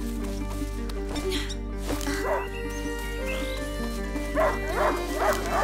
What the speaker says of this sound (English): A hunting dog is not supposed to lose its hunter.